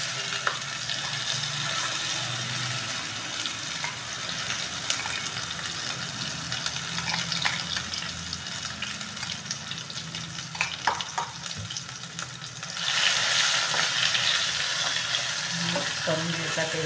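Ground roasted masala fries in hot oil with a steady, crackling sizzle and repeated stirring scrapes, swelling louder and brighter near the end as the mixture is worked in the pan.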